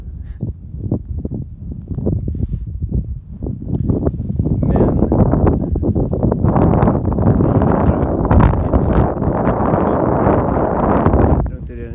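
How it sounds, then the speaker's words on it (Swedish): Gusty wind buffets the microphone on a mountain trail near Shangri-La, China, loud rumbling bursts that build and stay strong, with a voice speaking at times. "Här börjar det ganska så blåsigt."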